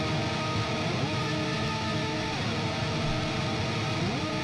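Distorted electric guitar lead tone shaped with an upper-mid cut around 4K and a 10K boost, playing a continuous sustained line with sliding bends at steady loudness, no talking over it.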